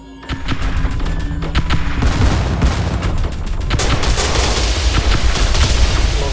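Weapons fire from a space station in the strategy game Star Drive 2, a continuous loud barrage of rapid shots and booming blasts that stays dense for the whole stretch, growing brighter and noisier midway.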